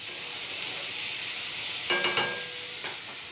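Ridge gourd curry with lentil fritters frying in a pan on the stove, giving a close, steady sizzle with a few quick clinks and scrapes near the end.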